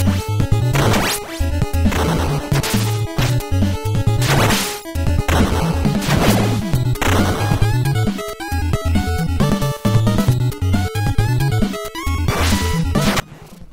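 Music from a Teenage Mutant Ninja Turtles NES video game plays continuously and loud, a busy chiptune with punchy percussive hits and melodic lines, with no talking.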